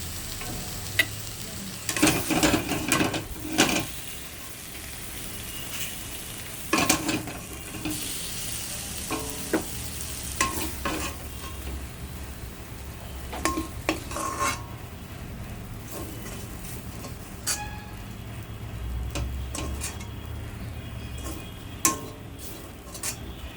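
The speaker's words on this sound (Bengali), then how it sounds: "এখন আমি বেড়ে নিচ্ছি।" Cooked taro leaves (kochu shak) spooned out of a pan: intermittent metal scrapes and clinks of utensil against pan come in bursts over a faint, quiet background, with no talking.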